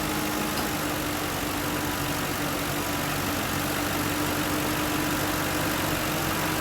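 A car engine runs steadily while the vehicle heads downhill, amid a charging system failure; a constant mid-low drone with dense road and cabin noise, no talking.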